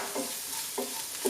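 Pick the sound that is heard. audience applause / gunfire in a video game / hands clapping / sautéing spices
sautéing spices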